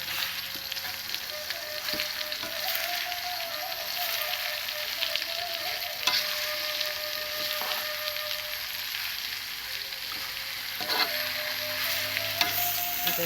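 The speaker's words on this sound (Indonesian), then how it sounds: "Kita tumis sebentar sehingga harum di sana." Ground spice paste with galangal, bay leaves, lime leaves and lemongrass sautés in oil for Soto Padang, a steady close sizzle broken by occasional stirring scrapes and taps, with no voices.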